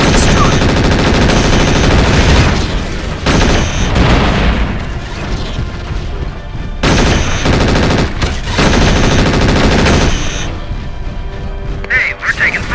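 Rapid, dense bursts of weapon fire from a Mechwarrior 4 battle, including pulse lasers and LRMs, play loud and nearly continuous through the passage with brief gaps. Spoken game voice lines cut in among the shots.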